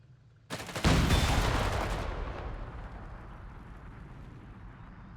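An anti-tank shot striking a Sherman tank in the video game Company of Heroes 3, one sudden loud, close blast followed by a long rumbling decay fading over several seconds.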